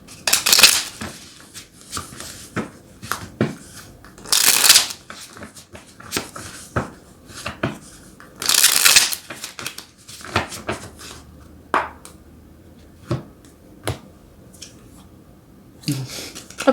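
Tarot cards are shuffled and handled in bursts of crisp riffling and flicking, with louder bursts spaced a few seconds apart and scattered small taps and slaps between them.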